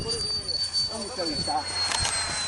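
Twin boom electric ducted fan model plane at a model flying club, a high-pitched turbine-like whine running steadily throughout, with people talking over it.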